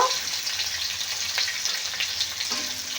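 Onions fry with black cumin and green chillies in hot oil, giving a steady, close sizzle and crackle with faint occasional stirring noises and no talk.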